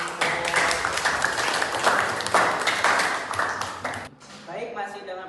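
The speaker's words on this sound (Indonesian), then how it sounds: "tepuk tangan untuk" A class applauds during a micro-teaching session: several seconds of dense, brisk clapping that stops abruptly, followed by a voice speaking.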